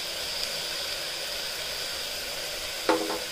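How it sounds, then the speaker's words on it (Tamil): Cashew paste going into sautéed vegetables for a seeraga samba white vegetable pulao: a steady, fairly quiet oil sizzle, then a short, louder stirring scrape near the end, with no talking. "இந்த ஸ்டேஜில் முந்திரி பேஸ்ட்டை நான் ஆட் பண்ணிக்கிறேன்."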